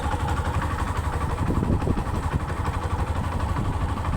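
Hero Xtreme 125cc motorcycle engine running in fifth gear with no hand on the throttle, a steady close rumbling drone with a continuous throb and no break throughout.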